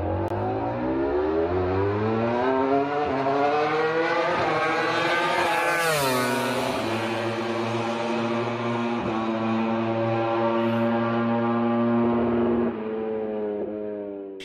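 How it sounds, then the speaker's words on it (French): A new Yamaha V4 motorcycle engine runs loud and close, holding a rich harmonic drone with a sharp rev rise and fall near the middle before settling back to a steady note. "C'est donc tout simplement le bruit de ce nouveau moteur V4."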